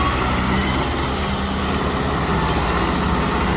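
A tractor engine runs steadily and close, a continuous low rumble with a faint tonal hum, and no voices over it.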